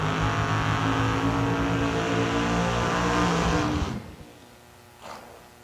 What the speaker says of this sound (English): Dueling burnouts.